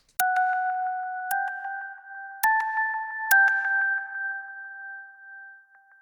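A bright FM synth bell (Ableton Operator) with Echo delay and EQ strikes four notes, each tone ringing on and trailing into soft repeating echoes that fade out alone.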